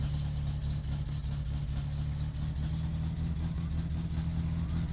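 Satsuma car engine in My Summer Car, a steady, close, rough idle and rev with a pulsing low rumble and a strong droning hum that hold at an even level, with no talking.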